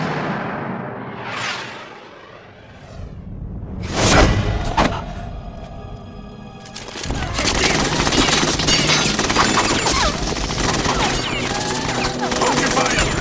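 Rapid gunfire bursts and whooshing effects from the video game Metal Gear Solid 2: Sons of Liberty, loud and dense, with a fusillade building into sustained machine-gun fire alongside voices.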